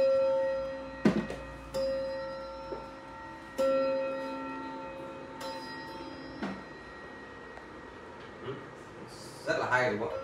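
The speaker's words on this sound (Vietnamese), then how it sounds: "Và chuông của nó đánh thì rất là hay các bác ạ." An antique clock chimes several resonant strikes that ring out and decay slowly, with people talking quietly underneath and a rustle near the end.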